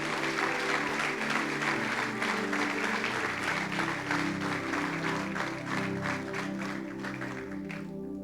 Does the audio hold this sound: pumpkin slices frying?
no